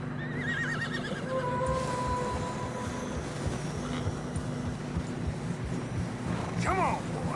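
Horses struggling through deep fresh snow in Red Dead Redemption 2, with several nearby whinnies and neighs over shuffling hooves and a low ambient rumble, while someone talks intermittently.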